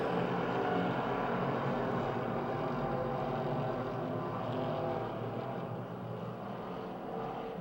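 Race cars roaring around the oval at Pennsylvania Motor Speedway near Pittsburgh, a steady, dense engine drone from the pack that stays loud throughout and eases off slightly toward the end.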